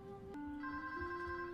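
A telephone in a French cartoon rings with a bright electronic trill, one tone jumping to a higher steady ring, clear and alone for under two seconds.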